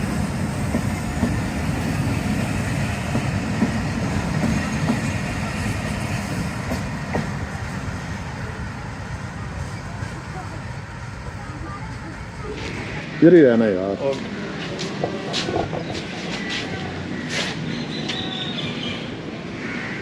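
A train rumbles through Pattoki railway station, a steady low roar of wheels on rails for most of the stretch, then a brief louder clatter and squeal as it passes close before fading, with a voice speaking briefly nearby.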